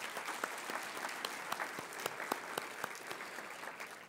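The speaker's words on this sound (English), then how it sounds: "Please give him an applause again." A small conference audience claps for a few seconds, scattered distinct hand claps standing out from the steady patter, fairly quiet and slightly distant.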